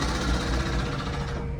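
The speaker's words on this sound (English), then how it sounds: "They got the jackhammer out, the big heavy duty jackhammer." A big heavy-duty jackhammer pounds at a street construction site in a city neighbourhood, heard as a dense, continuous rapid hammering roar from inside a passing car, with no talking.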